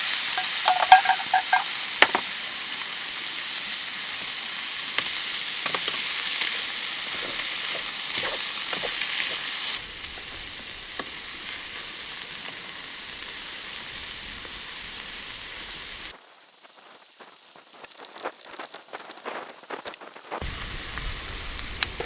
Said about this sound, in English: just going to drop the mushrooms in there as well